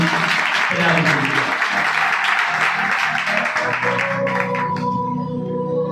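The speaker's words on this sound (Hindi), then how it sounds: "जोरदार तालियां देंगे।" Loud, dense applause from an audience at a sermon gathering rolls on for about four seconds, then fades out as a sustained voice or tone takes over.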